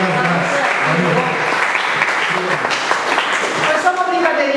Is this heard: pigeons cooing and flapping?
no